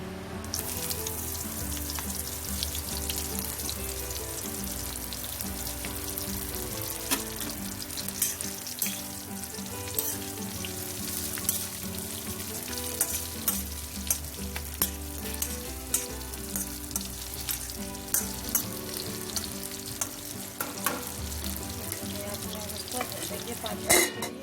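Stuffed green chillies fry in a little oil in a kadhai over low heat. A steady, close sizzle carries on throughout, broken by scattered clinks and scrapes of stirring.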